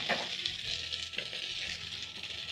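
Tomatoes go into a pan of frying garlic and ginger for a lentil and potato stew, giving a steady close sizzle with a few soft stirring scrapes and light clatter throughout.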